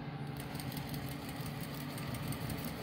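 A sewing machine stitches down the side of a fabric face mask with a fast, steady mechanical whir and rhythmic needle chatter, close and continuous with no talking.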